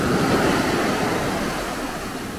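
Ocean waves break on the shore at Maspalomas, Gran Canaria, as a continuous, fairly loud rushing surf with some wind noise on the microphone and no voices.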